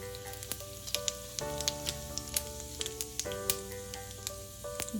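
Fenugreek and cumin seeds crackle and sizzle in hot oil in a pan, a steady close frying hiss dotted with sharp pops and spits.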